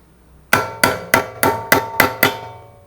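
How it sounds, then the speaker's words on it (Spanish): A metal tip is struck with a hammer to bend it, seven sharp ringing blows in quick even succession, loud and close. "Le vamos a doblar un poquito la punta también golpeándolo para que quede mejor."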